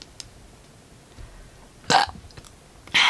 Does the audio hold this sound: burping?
yes